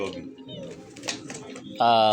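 A racing pigeon coos softly under a man's speech, with a louder, sustained coo near the end.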